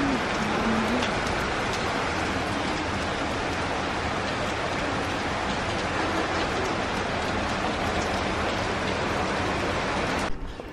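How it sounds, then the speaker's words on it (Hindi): Steady rain falling in Mumbai, a dense, even hiss that holds for about ten seconds before cutting off abruptly at the end. "तो अभी मैंने जस्ट बोला एंड बारिश स्टार्ट हो गई है"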